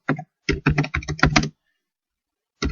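Quick bursts of typing on a computer keyboard, a rapid run of close, crisp key clacks for about a second and a half, then silence and one more short cluster of keystrokes.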